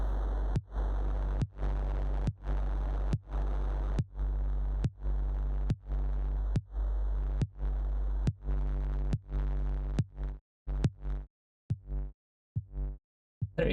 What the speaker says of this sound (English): So the sine wave and the white noise are both being fed into the distortion